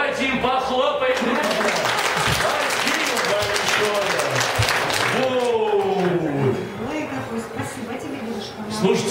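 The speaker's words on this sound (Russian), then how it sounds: "Давайте им похлопаем." An audience claps steadily for performers at a magic show, with sustained applause close by and a voice talking over it throughout.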